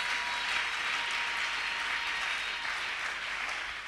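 An audience in a church gathering applauds to acclaim the king, a dense, steady wash of clapping that holds throughout and fades slightly at the end, with no talk.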